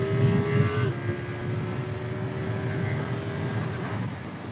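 A KTM Duke 890 R motorcycle accelerates with a steady, droning engine note whose pitch drops briefly early on before holding strong, close and loud.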